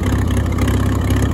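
A Farmall tractor engine idles steadily up close, a continuous low rumbling throb with no speech over it.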